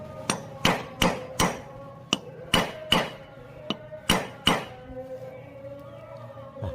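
A hammer knocks a part into a homemade multipurpose peanut grinder with about a dozen sharp, close metallic strikes in an uneven rhythm, some in quick pairs, then quieter handling noise at the end.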